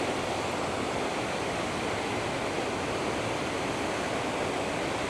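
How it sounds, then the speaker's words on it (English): The Rhaeadr Ddu (Black Waterfalls) rushing in a steady, dense, full roar of falling water that never lets up, heard close and alone without any voices. "I must admit there's quite a view of the waterfall from here."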